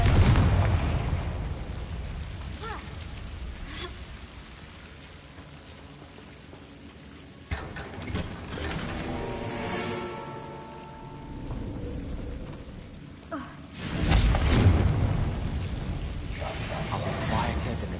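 A Confringo fire spell blasting in Hogwarts Legacy, with sudden booming bursts rising out of a rushing, rain-like game ambience over about eighteen seconds, and faint voices in the mix.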